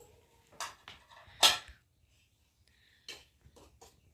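Cooked rice is served onto a plate with metal utensils, a few close scraping clinks and one sharper clatter, separated by quiet gaps.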